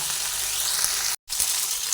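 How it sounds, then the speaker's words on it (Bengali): A steady, close sizzle of okra frying in an oiled pan, cut off for a brief moment midway before resuming. "ভেজে নিচ্ছি ঢেঁড়সগুলোকে"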